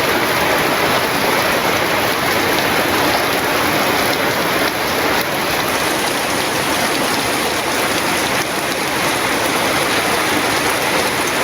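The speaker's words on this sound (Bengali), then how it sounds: "তো মোটামুটি ভালোই বৃষ্টি নামছে বৃষ্টি খারাপ হবে না ভালোই বানছে বৃষ্টি" Steady heavy rain pours down in a village, a dense, even hiss of drops on surfaces that fills the whole stretch without letup, close and loud, with no voices.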